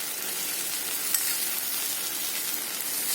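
Onion masala with cashew paste, poppy seeds, Kashmiri red chilli powder and yogurt sizzles steadily in a pan while being stirred, a constant near hiss with no talk.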